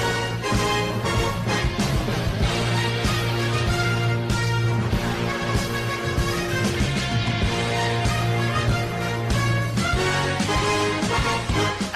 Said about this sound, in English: The fourth clip is from NBC's Sunday Night Football.